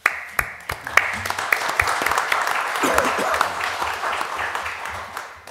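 A crowd at a city council meeting applauds an award, with sharp individual claps standing out at first before the sound thickens into a fuller, sustained round from the room.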